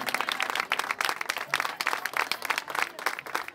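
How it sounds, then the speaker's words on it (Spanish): A small group applauds at a party, giving dense, fairly close clapping that continues steadily throughout with a slightly uneven rhythm and no voices on top. "Aplausos para ustedes."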